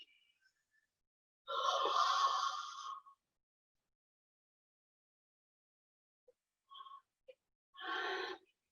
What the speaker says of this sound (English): I want you to yawn with me.